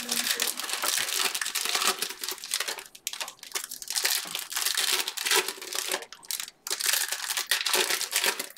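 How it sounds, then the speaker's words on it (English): Foil packs of Optic hobby trading cards are torn open up close, giving dense crinkling and crumpling foil noise in bursts with short pauses. "I'm just opening the packs."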